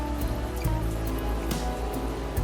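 Steady cartoon-style rain pours down continuously for a short stretch, a dense hiss of drops over a faint tonal backdrop, with no voices.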